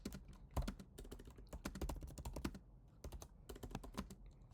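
Quick, uneven typing on a computer keyboard while solving a coding problem, with close, crisp key clicks in bursts separated by short pauses and no voice.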